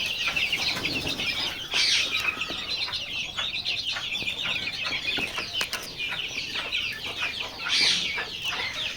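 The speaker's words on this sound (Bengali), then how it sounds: "এখানে রয়েছে দেশি মুরগি বাচ্চা" Many native breed chicks chirp and peep continuously in a crowded chorus, with a few louder bursts of cheeping rising above the steady chatter.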